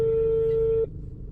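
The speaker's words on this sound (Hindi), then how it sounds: "फ़ोन मिलाते हैं, देखते हैं राजा जी उठाते हैं या नहीं काम के टाइम पे" A steady telephone tone sounds continuously while a phone call is being dialed during work hours, then cuts off abruptly near the end, leaving only low background hum.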